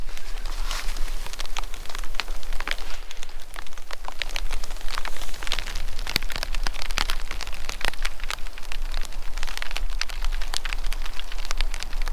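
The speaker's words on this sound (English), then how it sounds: "we made it before the rain really started to come down" Steady rain patters on a tarp nearby in the Sespe Wilderness, a continuous crackly hiss of drops with occasional louder taps.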